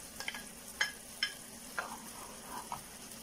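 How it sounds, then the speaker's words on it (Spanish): Diced poblano chile hitting a hot pan of red rice, with soft sizzling and a few sharp scraping stir clicks spaced through the moment, quiet and close, no voices. "Vamos a agregar los cubitos de chile poblano."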